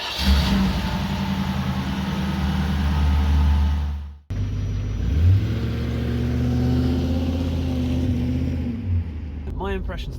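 Land Rover Discovery 2 with a rebuilt V8 engine being driven, a steady loud engine drone with a brief break and rising revs, heard from inside the car while someone talks.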